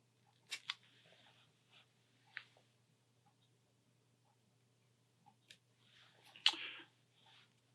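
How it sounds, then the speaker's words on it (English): Scissors trimming excess fly-tying material on a Hardy's Favorite dressed-irons fly, a few quiet crisp snips scattered across a near-silent room, close and faint, with a louder pair of cuts near the end. "I'll trim away the excess."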